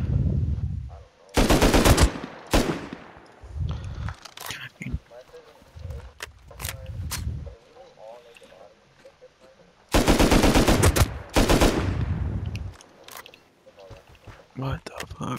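AK rifle gunfire in the Rust video game: rapid automatic bursts, loud and close, in two main volleys with scattered single shots between, while players talk over the action.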